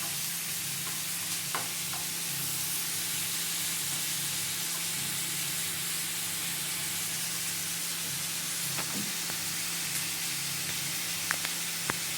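Chicken frying in a pan over medium heat for Kerala-style chicken ularthiyathu, a steady close sizzle and hiss with a few brief stirring scrapes and no talk.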